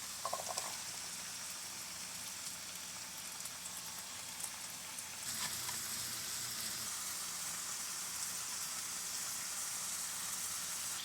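Black beans cook in a pan with a steady, close sizzle and bubbling hiss that holds throughout and grows slightly louder partway through.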